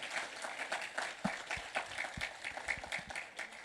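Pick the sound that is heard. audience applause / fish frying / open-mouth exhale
audience applause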